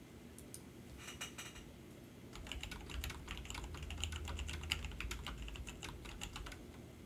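Close, quiet typing on a computer keyboard beside an Elgato Wave:3 microphone: a few scattered keystrokes at first, then a denser run of rapid clicky taps for several seconds over a low background hum.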